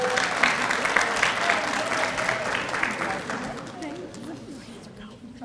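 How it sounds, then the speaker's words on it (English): Audience applause at a community college graduation recognition ceremony, a hall full of people clapping loudly and steadily, then thinning and fading toward the end, with some murmuring in the crowd. "give each of them a round of applause individually as they come across the stage"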